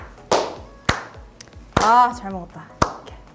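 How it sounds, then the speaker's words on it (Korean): Slow, deliberate hand claps after eating mala soup and honey pancakes, four sharp separate claps spaced under a second apart, close and crisp, with a person speaking briefly in between. "좋았는데 다 먹은 다음에 천천히 박수!"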